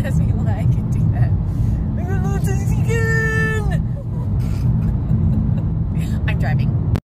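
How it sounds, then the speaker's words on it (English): Steady road rumble from inside a moving car in traffic, a continuous low drone with a person making whiny cartoon-like vocal noises over it partway through. "I'm driving."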